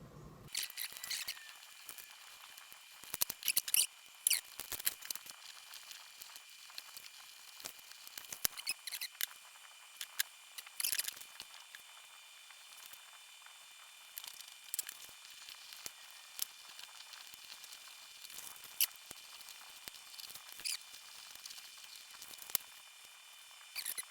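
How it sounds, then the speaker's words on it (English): Tape is pulled and cut over the gauge cluster of a 2016 Ford F150, giving long stretches of close, crackly peeling with sharp snaps and ticks scattered throughout. "sorry about your ears here when I pull this piece of tape"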